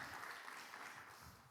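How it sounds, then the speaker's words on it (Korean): Warm applause from a church congregation for a worship singer at a youth retreat concert, a faint, continuous patter of clapping heard from a distance and held steady. "다시 한 번 더 찬양 사역자 현피터님께 뜨거운 박수 부탁드리겠습니다"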